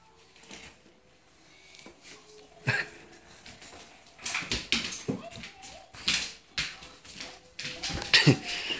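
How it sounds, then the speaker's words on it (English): A Labrador, Rottweiler and American Staffordshire pit bull mix dog whimpers and gives a few short yips close by, mixed with scattered taps and rustles that grow busier toward the end. "he's Labrador, Rottweiler, and American Staffordshire Pit."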